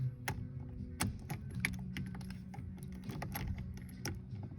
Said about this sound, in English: We're gonna loosen up this nut here. That's a 24mm wrench socket.